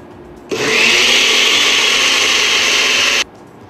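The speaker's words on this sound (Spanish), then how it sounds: "Y vamos a volver a licuar." Blender whirring at full speed through beetroot, milk and mashed potato, a loud steady motor drone that starts abruptly, runs about three seconds, then cuts off.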